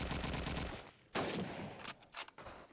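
Rapid gunfire from a Call of Duty 2 match during a tournament, a steady burst that cuts off, then a single sharp shot followed by a few scattered shots, fairly quiet and without talk.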